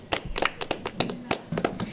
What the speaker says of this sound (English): Give a dad clap for Brent.